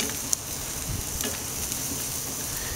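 Steaks sizzling on a grill as they are turned, a steady close hiss and crackle with a few small clicks and scrapes.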